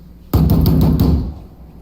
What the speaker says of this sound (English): that's the third time they knocked